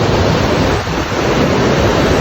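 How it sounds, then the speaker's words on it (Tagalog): Strong wind buffets the microphone in a steady, loud rush with a low rumble and no voices. "mahangin, ang simoy ng hangin"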